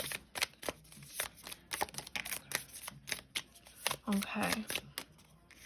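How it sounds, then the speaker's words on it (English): A deck of tarot cards is shuffled by hand in bursts of rapid riffling flicks and slaps, close and clear, with a brief spoken word in the middle. "Give me 1 second to shuffle them"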